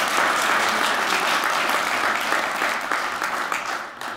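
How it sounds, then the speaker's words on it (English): An audience at a 2022 State of the City address applauds, a dense, steady wash of clapping from many hands that eases slightly in the last second. "I'll clap for that."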